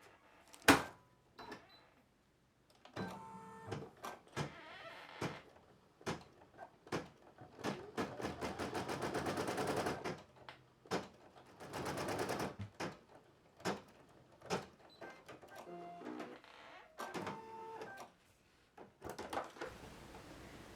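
An embroidery machine stitching a design in a multi-positional hoop, with rapid mechanical needle bursts, short runs of dense stitching and clicks between pauses, fairly quiet and close.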